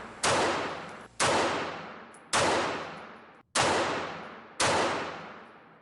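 Five loud, sharp pistol shots from a Hege Waffen AP-66 .380 semi-automatic fired at targets, spaced roughly a second apart, each a hard crack followed by a ringing, reverberant decay, with no talk between them.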